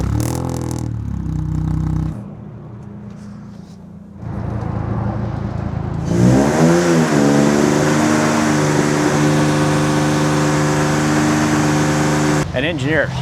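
A homemade Honda Acura TSX Type S (CL9) with a 3.2-litre engine and MDX heads runs on a dyno. It idles roughly, then revs up loud and close, the pitch climbing and holding under a steady roar.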